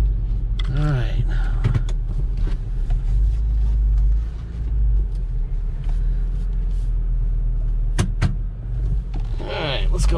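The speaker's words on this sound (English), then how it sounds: "Let's go for a ride in a nice car." A 2009 Nissan Xterra in two-wheel drive rumbles along with a steady low engine and road drone, broken by a few sharp clunks, while people talk inside the cabin.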